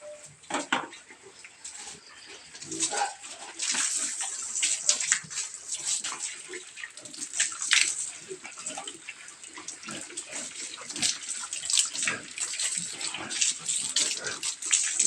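Water runs and splashes steadily while a pen for fattening pigs is washed down. The hiss is continuous and moderately close, with faint clatter under it.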